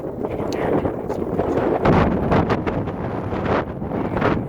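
Steady, blustery wind buffets the microphone outdoors on a fishing boat, a constant broadband roar with gusts swelling and easing over a few seconds.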